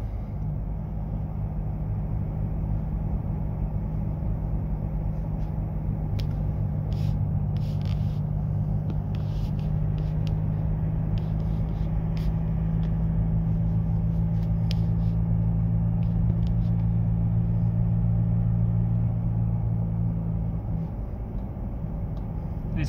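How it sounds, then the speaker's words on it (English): A Ford 2-litre biturbo diesel engine drones steadily from inside the cabin while driving, a low, even rumble that holds for over twenty seconds, slightly rising in the middle, with no one talking. "Turbo does boost very quickly as well, so it does feel like a bigger motor than the 2 litre."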